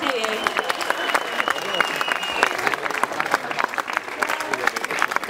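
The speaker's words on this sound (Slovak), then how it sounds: "Zatlieskajte jej." An audience at the Šumiac festival in 2015 applauding, dense clapping from many hands, steady and close, continuing for several seconds while a voice speaks over it.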